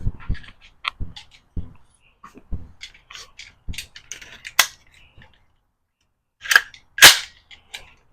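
Sharp, loud shots from a PDW firearm at an outdoor range, fired singly at irregular intervals and ending in a closer cluster of heavy reports, with a little faint talk in between.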